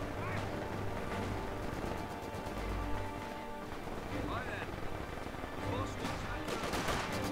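Machine gun fire on a Company of Heroes 2 battlefield in Lienne Forest, a steady dense rattle with distant battle noise throughout, under continuous player talk.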